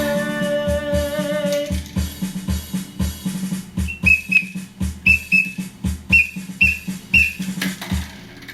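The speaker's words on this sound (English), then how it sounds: "Made in Sweden. Big yellow whistle there." A big yellow whistle made in Sweden is blown in rhythmic bursts, short sharp toots in a steady beat over a marching rhythm, some high trilled blasts near the end, loud and close.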